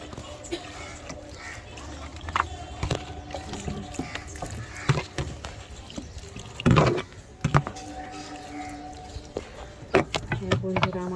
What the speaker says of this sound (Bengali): এই গাছটাতে জল দিই।